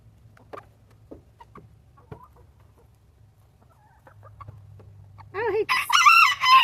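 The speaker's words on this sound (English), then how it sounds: "he's a pretty picky chicken" A pet chicken clucks softly and sporadically at first, then a loud close rooster-style crow rings out near the end, with a quiet low hum underneath.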